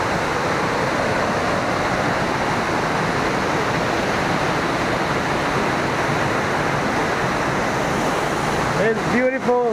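Tyrshi Falls in Meghalaya roars as a steady, loud wash of crashing water throughout, with a brief voice near the end.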